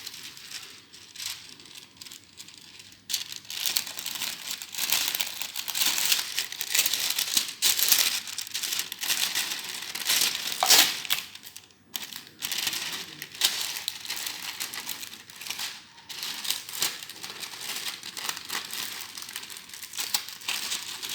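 Shrink wrap paper being fitted around a handmade raffia gift bag, giving sustained dense crinkling and crackling close by, with sharper crumpling bursts and brief pauses throughout.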